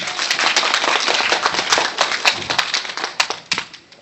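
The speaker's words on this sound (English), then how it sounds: "round of applause for her" Audience at a filk music panel at the Kumoricon 2011 anime convention gives a round of applause, a dense burst of close hand claps for about three seconds that thins into scattered, sharper claps before fading out.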